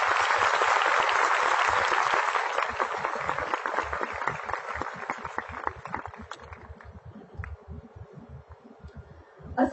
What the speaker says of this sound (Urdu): میں دعوت دیتا ہوں آپ سب کی تالیوں میں